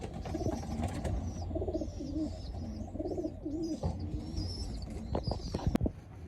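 Pigeons cooing close by in repeated soft, throaty phrases, with a few sharper knocks and rustles near the end.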